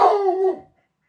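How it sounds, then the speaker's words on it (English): A dog gives a single loud, drawn-out bark or yowl lasting about half a second, close by, trailing off into silence. "That's my dog."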